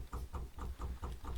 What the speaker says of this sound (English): Electric fuel pump test.